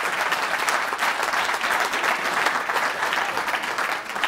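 Audience members at a Rotary club changing-of-the-guard event give a round of applause, sustained, fairly loud clapping from many hands throughout, with no break.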